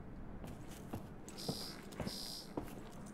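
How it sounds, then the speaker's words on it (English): An alarm sounds inside a building in the video game Paradise Lost, with two sustained buzzing bursts over a low rumbling background and a few soft thuds. "Some kind of alarm is going off."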